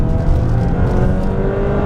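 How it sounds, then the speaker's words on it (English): Jeep Compass Trailhawk with a MultiAir engine and 9-speed transmission runs with a loud, continuous engine drone and road roar throughout, no talking. "And this multi-air engine sounds really good."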